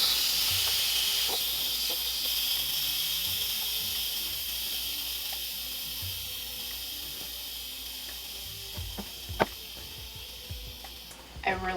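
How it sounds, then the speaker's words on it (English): An Instant Pot pressure release valve vents steam in a steady, loud hiss that continues for the whole stretch, with a few faint clicks and knocks near the end. "I release the pressure"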